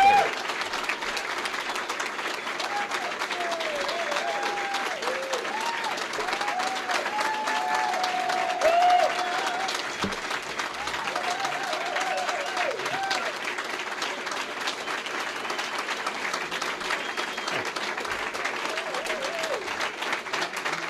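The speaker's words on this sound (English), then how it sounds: "So we can give another round of applause for John." A crowd at a county GOP unity reception applauds John Gibbs, sustained clapping throughout with a few voices and cheers mixed in under it.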